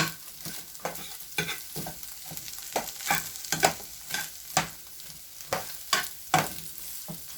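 Maggi noodles with egg frying in a pan, a soft sizzle under a steady run of rhythmic stirring and scraping strokes, close and moderately loud, with no talking.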